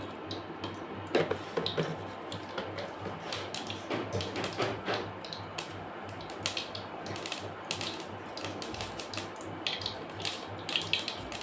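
Mustard seeds, one spoonful, crackle and pop in three spoons of hot oil in a pan on a stove, a dense continuous sizzling spatter with scattered sharp pops, close and steady.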